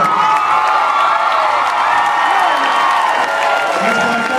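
A large school crowd at a pep assembly cheers and applauds for the football team, a dense, loud roar of clapping, whoops and shouts that holds steady throughout, with voices mixed in.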